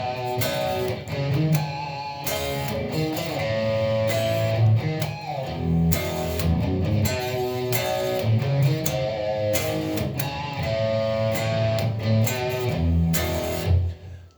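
Electric guitar with overdrive plays a song's riff, a loud, steady run of driven picked notes and chords repeating in a rhythmic pattern, played alone without speech.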